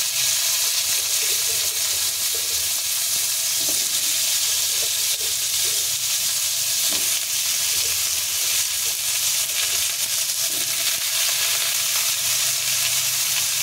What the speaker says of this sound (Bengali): আমগুলোকে একটু ভেজে নেব।